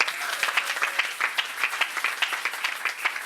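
A church congregation applauding in praise, brisk rhythmic clapping from many hands, fairly close and steady for the whole moment.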